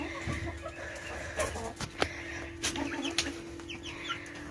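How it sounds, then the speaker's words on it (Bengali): Chickens on a small farm cluck in short, scattered bursts, with a few soft calls and rustles rising over a quiet, steady background, moderately close and fairly faint. "মুরগিগুলোকে আদার দিয়েছে"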